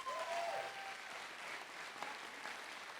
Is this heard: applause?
yes